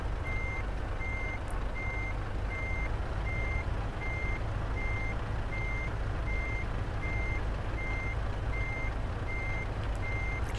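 Steady, evenly spaced reversing beeps sound from a MAN TGX Euro6 truck backing up with a 24-tonne load of tubes in Euro Truck Simulator 2, over a constant low engine rumble.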